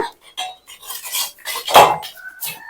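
A spoon scrapes and clinks against a metal pan as homemade hair dye oil is stirred on a stove over low flame, a series of close, uneven metallic strokes without talk.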